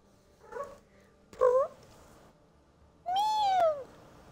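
A cat meows several times: two short mews, then a longer, louder drawn-out meow near the end, close and alone against quiet background.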